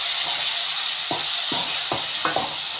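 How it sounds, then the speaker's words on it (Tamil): Onion, tomato and green chilli fry in a pan for an egg gravy, giving a steady close sizzle with a few soft stirring scrapes spaced through it. "வெங்காயம் தக்காளிலாம் நல்லா டீப் ஃப்ரை ஆகணும், நல்லா வதங்கணும்."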